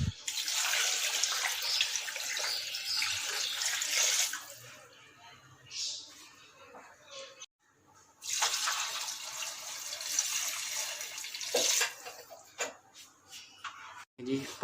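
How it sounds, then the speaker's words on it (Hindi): Water pours in two long splashing streams into a cooking pot, loud and close, with a quieter gap and scattered drips between, while someone talks over parts of it. "जी ये देखें, अब इसमें मैं पानी डाल रहा हूँ।"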